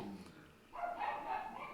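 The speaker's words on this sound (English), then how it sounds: "and if the dogs will ever stop barking." Dogs bark at a neighbor walking down the street outside, a brief, faint burst of barking heard from some distance, with no talking.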